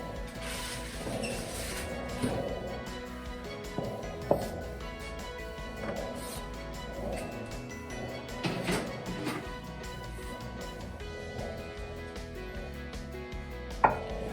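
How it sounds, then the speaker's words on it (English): Roasted cauliflower being moved gently into a bowl, soft clunks, scrapes and occasional sharper knocks spread over a quiet background with a faint tonal hum. "I'm going to take all the cauliflower, gently get that into my bowl"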